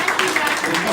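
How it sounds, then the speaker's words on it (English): An audience at a launch event claps steadily for about a second, a dense, bright patter of many hands with voices mixed in underneath. "But round of applause, guys, for today."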